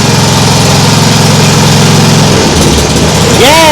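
A Nibbi G619 walk-behind tractor engine runs loud and close, chugging steadily before the throttle changes its pitch; a voice is heard near the end.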